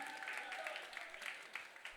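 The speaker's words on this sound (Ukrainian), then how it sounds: "оплески тим, хто на горі" Applause from a concert audience at a Crimean Tatar music performance, a steady wash of clapping that fills the space, fairly distant and even in level, with a few sharper claps poking through.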